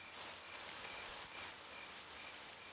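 Continuous steady rain hiss in a PC video game, Daemonica, even and unbroken, with no voices.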